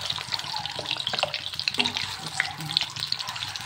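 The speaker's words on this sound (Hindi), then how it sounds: "देख सकते हैं अंडा मैं कर रही हूँ फ्राई" An egg fries in a pan with a steady, close crackling sizzle, dotted with small pops and spits that continue throughout.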